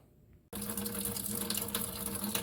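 Antifreeze pours out of a 1972 Dodge Charger in a sudden, steady gushing stream that starts abruptly and keeps splashing close by.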